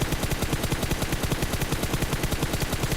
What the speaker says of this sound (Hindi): और फिर मैंने अपनी M4 निकाली, स्प्रे कर दिया।